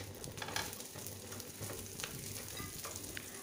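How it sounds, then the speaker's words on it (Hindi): An egg paratha fries in oil or butter on a pan over a low gas flame, giving a soft, steady sizzle and crackle, close and quiet, with no voices. "ऑयल या बटर जो भी आप पसंद करते हो आप इसे लगा के दोनों तरफ गैस का फ्लेम कम करके सेक लेंगे बराबर से"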